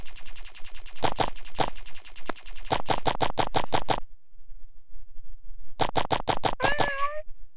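In the video game Boredom, a rapid series of sharp, clipped cat meows and synthetic bursts fire in quick trains, pause in silence, then resume with rising warbling tones, loud and up front with no talk.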